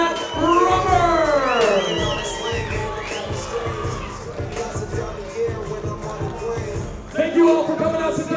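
A crowd at the WFC 7 mixed martial arts event at the All Blue Resort Casino in Lake Tahoe breaks into a dense wash of applause and crowd noise after the main-event winner is announced, with an amplified voice before and after.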